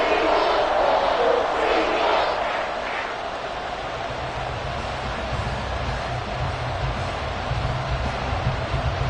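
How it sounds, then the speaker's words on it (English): A stadium crowd in a Madden football video game roars as a fourth-quarter extra point ties the score, a loud, dense, continuous cheer that swells early and then holds steady as a broad wash of noise. "This crowd alive again."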